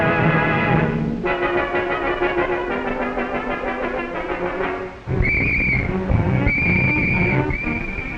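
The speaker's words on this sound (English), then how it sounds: "When the warden's whistle blows, factory workers don their helmets and keep on working." Several shrill whistle blasts from an air raid warden inside a wartime Canadian factory, 1943, cut sharply through loud orchestral music, arriving in short bursts near the end.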